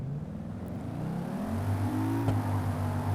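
A Lexus GS F sports sedan's V8 engine in the video game BeamNG idles low, then climbs into a steady, louder rev with a brief sharp blip, staying close and continuous throughout.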